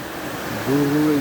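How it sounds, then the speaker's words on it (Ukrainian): The Vinstra river in Norway churns loudly with broken chunks of ice drifting in the current, a dense, steady rush, and a voice briefly joins near the end. "А з того боку вода просто бурлиє."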